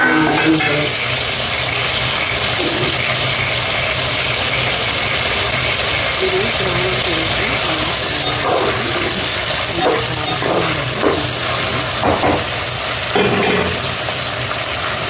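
A mixer grinder blends tomatoes for a large batch of soya chunk biryani made for a charity food offering, its motor giving a loud, steady, unbroken whir from start to finish while voices sound faintly beneath it.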